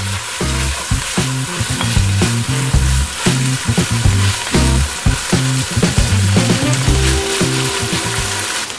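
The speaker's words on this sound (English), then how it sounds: "we're just going to give the onions 5 minutes until they go transparent" Onions frying in a pan, a loud close continuous sizzle with rhythmic scraping and clacking of stirring throughout, no voices.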